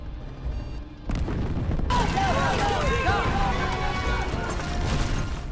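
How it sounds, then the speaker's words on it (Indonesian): A mine is blown up: a deep boom erupts after a moment of quieter sound, followed by a sustained rumbling roar with scattered debris and crackling, loud and enveloping. "dia pun segera meledakkan tambang tersebut"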